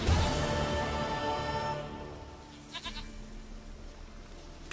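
A goat bleats a few times in The Witcher 3, its short wavering calls appearing partway through the clip over a dense layer of game music and ambient sound.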